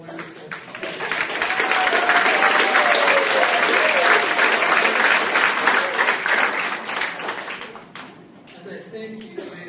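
Loud, sustained applause from a banquet audience at an all-sports awards dinner, dense clapping that stays steady for most of the stretch before thinning near the end, with a voice faintly audible underneath.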